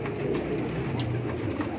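A flock of high-flying striped pigeons gives a dense, steady low cooing murmur, close and even throughout the short stretch.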